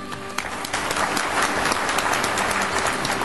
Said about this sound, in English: Ladies and gentlemen, a round of applause for a great company